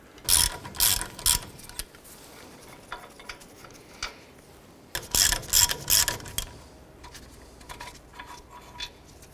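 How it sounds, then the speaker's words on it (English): Ratchet wrench with a 21mm socket loosening brake caliper bracket bolts on a 2004-2009 Dodge Durango, two close bursts of rapid clicking separated by a quiet pause, with no talk. "Using a 21mm socket, remove this bolt and this bolt here."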